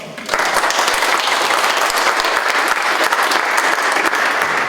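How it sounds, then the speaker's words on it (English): Steady, loud applause from a large audience at a county candidate forum, sustained clapping filling the room from start to finish without a break. "Please give yourselves a round of applause."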